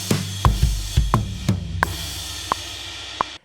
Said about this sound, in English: It's kind of like a tom fill, and then it's just ending with a crash left.